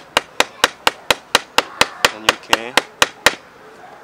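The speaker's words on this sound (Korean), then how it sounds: "도끼를 결합하고 나무를 한번 잘라보겠습니다." Stone axe with a quartz flint head and a zelkova wood handle chops into wood in twelve sharp, evenly spaced blows, each a crisp thwack with a short decay, close and loud, while someone briefly speaks under the strikes.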